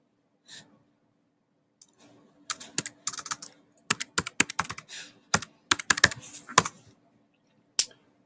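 Keys tapped on a computer keyboard while entering a number into a Chromebook checkout system, a brief burst of close, crisp clicks in an uneven rhythm, ending with a single sharp key press after a short pause.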